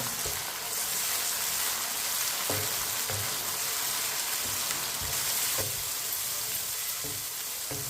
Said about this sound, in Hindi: टमाटर और सब्ज मिर्च को 3 मिनट के लिए पका लेंगे।